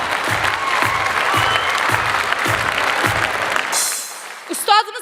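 Concert audience applause, a dense burst of clapping from a large crowd with a steady rhythmic beat, fading after a few seconds before a voice speaks briefly.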